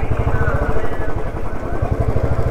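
A motorcycle engine idles close and loud as the bike is brought to a stop in a parking area at a tourist spot, producing a steady rapid low thumping pulse throughout.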